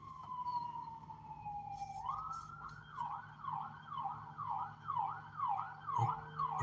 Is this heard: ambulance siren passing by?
yes